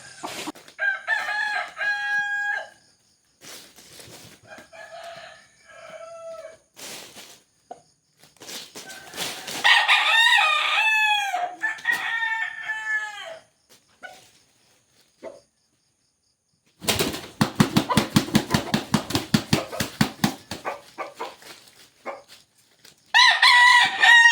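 Fighting cocks (gamecocks) crow repeatedly in loud, harmonic bursts, with clucking between calls and a sharp rattling burst near the end; no talking.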